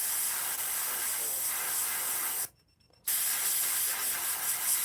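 Airbrush spraying paint onto a Halloween pumpkin, a steady loud airy hiss that cuts out briefly for about half a second before resuming, with no voices.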